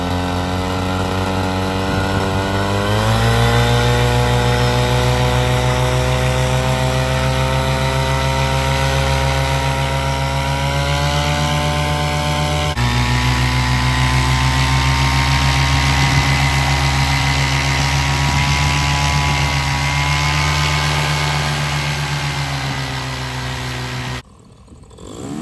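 Atom 80 paramotor engine at full throttle, a loud continuous drone whose pitch rises early on and holds steady, cutting off abruptly near the end.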